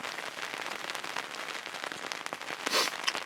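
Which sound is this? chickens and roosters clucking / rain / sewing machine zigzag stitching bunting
rain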